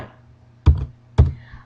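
Two separate, fairly loud key presses on a computer keyboard, close by, with a short gap between them over a quiet background hum.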